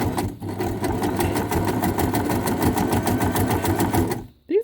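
Sewing machine stitching scrap fabric rope into a raggedy flower, running in a steady, loud, fast mechanical chatter for about four seconds before stopping abruptly, with a brief rustle of handling at the end.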